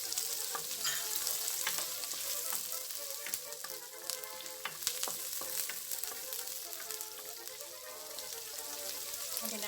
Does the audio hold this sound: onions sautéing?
yes